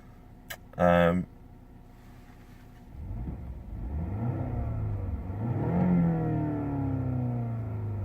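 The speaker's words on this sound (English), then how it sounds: "so there's the engine after starting up" A BMW 530e M Sport hybrid engine starts with a short burst, then settles into a steady idle that rises and falls as it's revved in sport mode, close by.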